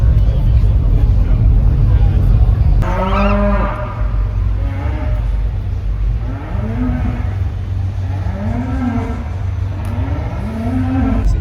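Cows moo repeatedly at a livestock show, loud and close, with a series of long, rising lowing calls over a constant rumbling background of crowd and engine noise.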